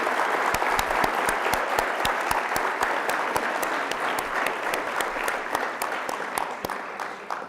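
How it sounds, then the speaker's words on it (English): An audience at a city mayor's performance awards ceremony applauds nominees with dense, sustained clapping for several seconds, and a few sharp individual claps stand out from the crowd. "So let's give a round of applause."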